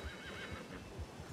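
A horse in a video game gives a short whinny mixed with a few hoof clops, faint and close, with no talk over it.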